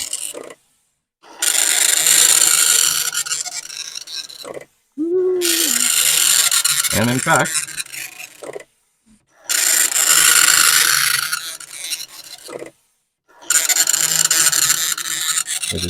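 A Commodore 1525 printer runs in test mode, printing in four loud rasping bursts of a few seconds each separated by short pauses, with a brief word spoken at one point.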